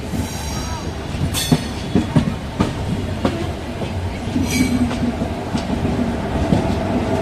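A passenger express train pulls into Coimbatore Junction railway station, wheels clattering over rail joints with sharp squeals and steady rolling rumble, loud and close on the platform.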